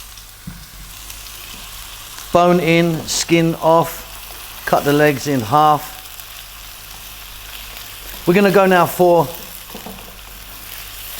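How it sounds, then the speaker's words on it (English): Steady sizzling of chicken legs frying in a hot pan runs throughout, with someone talking over it in several bursts. "just frying this chicken around"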